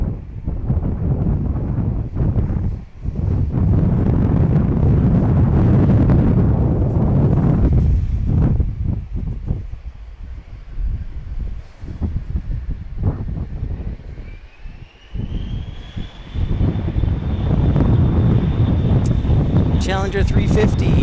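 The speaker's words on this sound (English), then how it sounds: "Challenger 350 departing here from FlexJet." A FlexJet Challenger 350 business jet departs Dallas Love Field, its engine roar rumbling steadily with wind buffeting, then a rising whine building toward the end, fairly near and loud.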